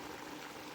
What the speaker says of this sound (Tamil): பாருங்கள், நல்லா கொதிச்சிட்ருக்கு.